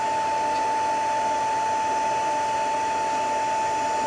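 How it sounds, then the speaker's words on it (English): A heat gun blows hot air over brown eggshells in a craft project, giving a steady, even whoosh with a constant high whine throughout, fairly near and with no talk. "I'm just putting the heat gun on as I go along"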